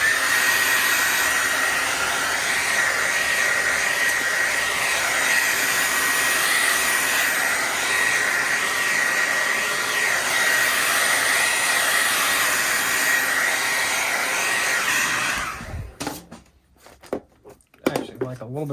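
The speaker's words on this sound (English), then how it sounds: "Hit that with the dryer." A hair dryer blows steadily and loudly to dry fresh paint on a Safariland holster being painted in camo, a continuous whoosh that cuts off near the end, leaving a few soft handling clicks.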